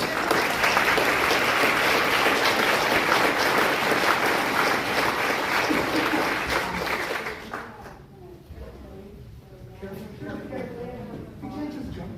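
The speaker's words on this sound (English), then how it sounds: "Let's give them one more big round of applause." An audience at a live community gathering in Sandpoint, Idaho gives loud, sustained applause for about eight seconds. It then thins out into scattered claps and voices in the room.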